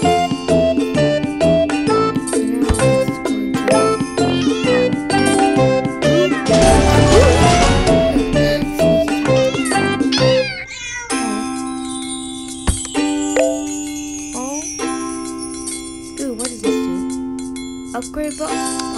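Cats in Cat Condo meow again and again over a bright, jingly game soundtrack with chimes and dings, with a busy burst of overlapping sounds partway through, steady and close.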